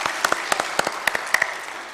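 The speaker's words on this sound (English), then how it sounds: "Another round of applause for our guest of honor." An audience at a moot court final competition applauds the guest of honor, scattered sharp claps over a soft wash of background noise.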